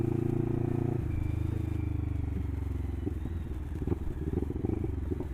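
A Lexmoto LXR380 motorcycle riding through a newly built housing estate, its engine note steady and close at first, then rising and becoming rougher with irregular throttle pulses and some clatter.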